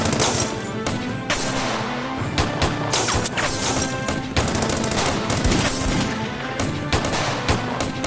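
Rapid gunfire and crashing impacts rattle through a dubbed TV action drama. The dense bursts continue without letup at a loud level, with no clear speech.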